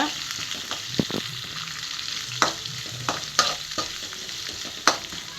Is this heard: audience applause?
no